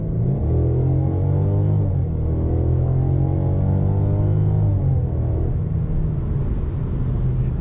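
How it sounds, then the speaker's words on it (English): A 2021 Mercedes-Benz C300 accelerates hard from inside the cabin, its engine note climbing steadily in pitch through the revs, then easing off with a drop as it shifts, under a constant loud road rumble. "Let's just do a quick little acceleration test."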